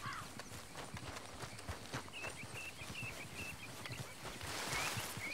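Horse hooves in the western video game Red Dead Redemption 2, a steady run of soft clip-clop footfalls at moderate distance, with faint birdsong chirping above.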